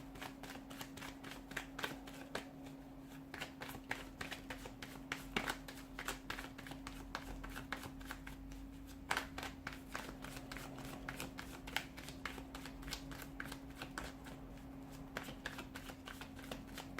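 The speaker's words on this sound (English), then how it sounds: "Let's give the cards a shuffle and begin" Tarot cards are shuffled close by, a continuous quiet run of rapid papery riffles and flicks over a faint steady hum, with no talking.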